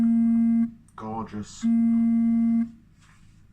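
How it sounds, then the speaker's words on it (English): A phone rings with an incoming call, a steady electronic tone that sounds in two long stretches separated by a brief spoken word, close and clear. "And getting a phone call, so I'm going to decline that."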